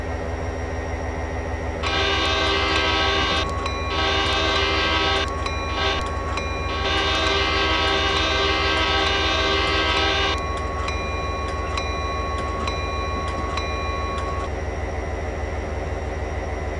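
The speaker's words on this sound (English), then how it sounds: "at least we got some horns going" Norfolk Southern freight train hauling fly-ash in the coal district sounds a loud, sustained multi-tone horn in long blasts with short gaps, over a steady rumble of the locomotive and rolling wagons.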